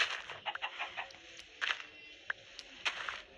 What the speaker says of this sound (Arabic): في فرخة.